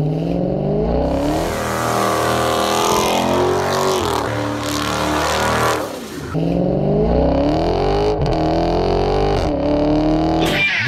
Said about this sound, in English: This is the Dodge Challenger RT Scat Pack Widebody, a 485 horsepower V8 muscle car